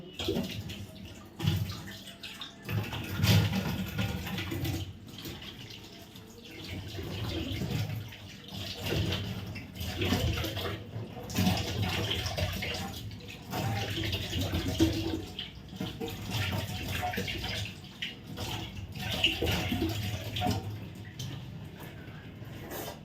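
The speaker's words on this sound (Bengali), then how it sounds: "আমি এখন শুধু জল দিয়ে এটাকে ওয়াশ করবো" Plain water splashes and sloshes continuously while a face is rinsed by hand. The splashing is close and uneven, with no talking.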